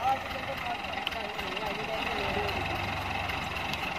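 A tractor engine runs steadily as the tractor pulls out during a difficult drive, a continuous mid-distance rumble with a voice talking over it.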